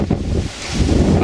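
Strong wind blows across an exposed outdoor spot on a cold day, a steady loud rush with buffeting against the microphone throughout, no voices.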